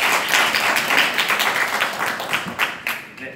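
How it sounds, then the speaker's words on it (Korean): Seminar audience at a COEX conference room trade fair applauds, a dense burst of clapping that gradually thins and fades out over a few seconds. "그다음 박수 한번 주시겠습니다."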